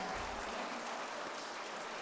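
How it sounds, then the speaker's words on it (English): An audience at an education foundation gala claps in a soft, steady patter that sounds faint and somewhat distant, with no talking over it. "Give her a round of applause."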